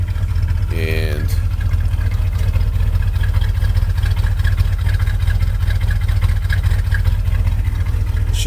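A farm truck's engine idles nearby with a loud, steady, low rumble throughout, and a person speaks briefly over it near the start.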